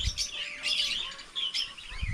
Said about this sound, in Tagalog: Yung alaga naming uwak oh. Nasa labas pa rin hanggang ngayon.